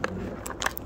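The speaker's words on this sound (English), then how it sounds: "Lizzie, chewing on my ear" Pet bird nibbling and chewing on a person's ear, close up, with small crackling, crunchy bites in short clusters over a faint background.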